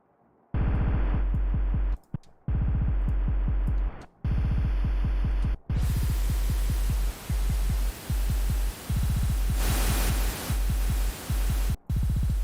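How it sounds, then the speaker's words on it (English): A synth patch gains a bright white-noise layer: a rhythmic, pulsing bass tone chops on and off, then a broad hiss joins it from midway and pumps along in gated bursts. "Let's also group this and add a white noise."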